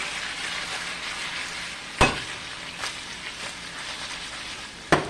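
Nasi goreng ingredients with lemongrass and bamboo shoots sizzle steadily while being sautéed in a pan on an electric stove, a continuous close hiss broken by two sharp scrape or stir knocks.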